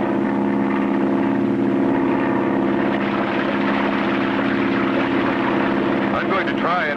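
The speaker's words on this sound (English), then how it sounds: "the only way he can bring his plane down on the water with one float is to make a high-speed power landing" A seaplane's propeller engine drones loudly and steadily during a high-speed power landing on water in a 1959-60 cartoon, a continuous buzzing hum with no letup, while a voice speaks over it.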